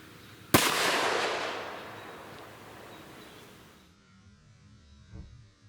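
A single sharp .357 SIG pistol shot fired into a ballistic gel chicken cracks out loudly, then rings and decays over a few seconds outdoors, followed by a faint thump.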